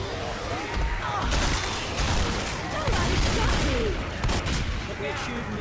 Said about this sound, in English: I'm just trusting you to shoot the zombies as I go.